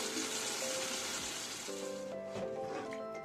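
Capsicum mixture for meat curry puffs sizzling steadily in a pan, a loud continuous frying hiss with brief clinks and bubbling pops toward the end; no voices.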